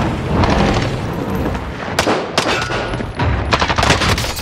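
Sustained Warzone gunfire, dense rapid automatic bursts with sharp louder reports cutting through, close and loud throughout with no talking.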